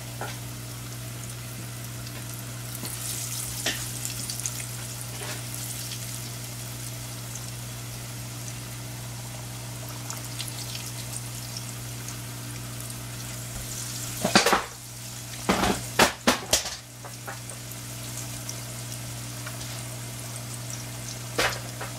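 Beer-battered catfish pieces deep fry in a small home fryer, a continuous bubbling sizzle over a low steady hum, with a burst of clinks and clatter of basket or utensils midway.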